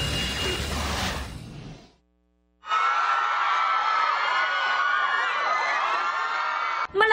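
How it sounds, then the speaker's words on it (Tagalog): Crowds of BTS fans from around the world scream and cheer loudly for Jimin and Jungkook, a dense high-pitched roar that cuts out briefly, then returns sustained and intense before ending abruptly. "Malakas na hiyawan ang isinalubong ng armies from different parts of the world kina BTS members Jimin at Jungkook"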